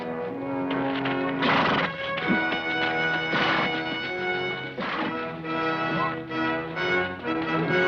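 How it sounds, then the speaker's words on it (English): A horse whinnies in a 1950s Western amid a continuous bed of orchestral score, with several loud neighing bursts rising over the music. "I'll just get my horse."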